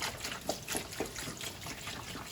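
Vinegar splashes and trickles in a container during rust removal, with a few soft sploshes over a quiet running-liquid background.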